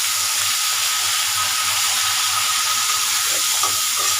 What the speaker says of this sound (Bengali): আজকে সরাসরি তেলের ভিতরে লবণ দিয়ে দেব, লবণ দিয়ে আলু পেঁয়াজ দিয়ে দেবো এখানে।